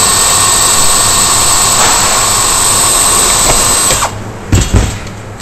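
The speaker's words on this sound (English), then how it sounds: "get that last pop rivet in there." Pop riveting aluminium spouting on an external quad angle, a loud continuous whirring tool-like drone for about four seconds, then it cuts off, followed by a couple of short sharp metallic snaps.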